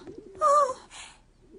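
Pigeons cooing in Rome, a short soft coo heard alone, followed by a fainter second call.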